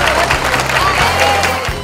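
An audience applauds Mayor Messial Arruda as he receives his diploma at a diploma ceremony for the mayor and councillors in Grajaú: steady, dense clapping from a crowd that fills the whole stretch, with some voices mixed in.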